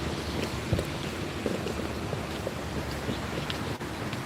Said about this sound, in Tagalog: It's nice weather, but very windy.